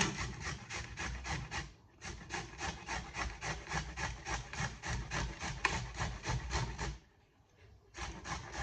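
A vegetable is rubbed on a hand grater in a kitchen while yogurt raita is prepared, steady quick rasping strokes in a close rhythm, with two brief pauses, faint and without talk.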